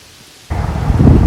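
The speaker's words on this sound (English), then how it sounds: "The rain is soft and constant" Soft, constant rain in Hoi An on a quiet morning, silence giving way abruptly to a steady broadband wash of falling rain that swells slightly and continues evenly.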